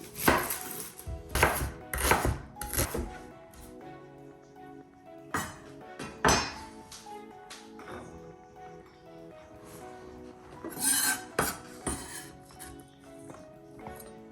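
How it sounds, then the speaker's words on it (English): An onion is roughly chopped with a knife on a cutting board, a series of sharp, close knife strikes coming in uneven bursts with short pauses between them and no talking over it. "And next we're going to roughly chop 1 onion."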